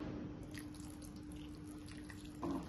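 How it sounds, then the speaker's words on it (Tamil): Coconut milk, about 100 ml, is poured into a pan of cooking banana flower curry (vazhaipoo poriyal). A steady, soft liquid pour runs throughout and swells into a brief louder splash at the very end. "இதோட தேங்காய் பால் ஒரு 100 ml சேர்க்குறேன்."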